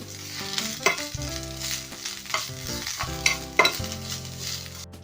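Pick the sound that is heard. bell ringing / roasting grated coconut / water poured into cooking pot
roasting grated coconut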